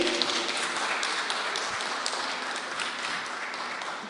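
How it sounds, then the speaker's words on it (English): Audience at a community centre sip-and-chat evening applauds the presenters, a fairly quiet, even stretch of clapping from a room of people that holds steady throughout. "Can we have a round of applause for our presenters this evening?"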